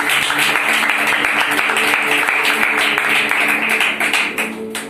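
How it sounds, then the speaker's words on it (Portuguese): Audience applauding loudly at a church birthday celebration, with dense continuous clapping from many hands that fades slightly at the end. "E as palmas bem fortes. Bem alto."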